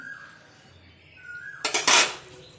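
Pasta being stirred in a wok of boiling water, with a quiet simmering bed giving way to a short burst of loud metallic scraping and clattering near the end.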